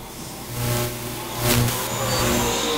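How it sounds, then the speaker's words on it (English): ULMA late model stock cars roar past on a speedway during a Stocks Nationals main, a steady engine drone swelling as the pack passes, with a louder surge midway, no talk over it. "So your top cars on lap number 4 as they come across this time."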